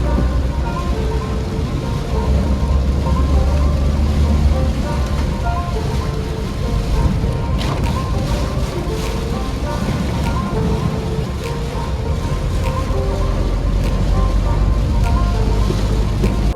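A car rolls along a waterlogged street, its low engine rumble mixed with a continuous wash and churn of water around the wheels, loud and close from inside the vehicle.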